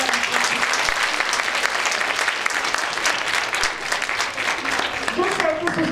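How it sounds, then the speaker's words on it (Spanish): An audience at a science event honoring women and girls gives loud, continuous applause, a thick wash of clapping throughout, with voices talking over it near the end. "Un aplauso, por favor."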